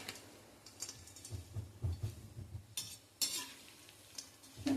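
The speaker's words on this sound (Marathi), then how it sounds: "आपण चिवड्याला कसं साधारण लालसर होईपर्यंत खोबरं तळतो तसं ह्यात तळायचं" Grated coconut fries quietly in a kadhai, with soft sizzling under light scraping and clinks of a spatula stirring it, close and low in level.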